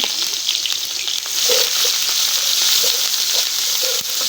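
Chopped garlic and onion frying in hot oil with whole cumin, a loud close continuous sizzle with a few faint stirring knocks, no talk.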